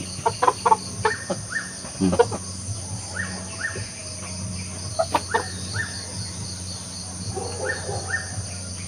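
A Nakedhell Belgian Aseel rooster clucks in short, repeated bursts, some close and some softer, over a constant background hum of insects or crickets.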